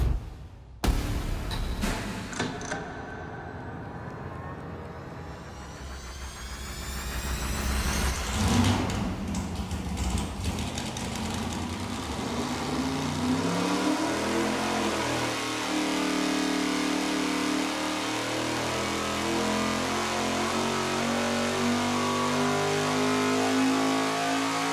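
Race engine on a dyno with tight exhaust valve lash, quiet start then a loud sustained pull, the engine tone rising steadily in pitch as revs climb and holding a strong roar to the end, no talk.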